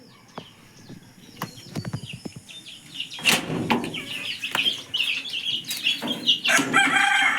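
A rooster and two hens in a small backyard flock give scattered clucks and calls that build into louder, overlapping crowing toward the end, fairly close, with soft shuffling and knocks between the calls.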